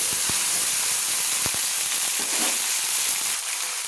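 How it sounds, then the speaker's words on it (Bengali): Spice masala with ginger and green chilli is fried in hot oil for a potato curry, giving a loud, steady sizzling hiss with a few sharp stirring knocks. "মশলাটাকে আমি কষে নিচ্ছি"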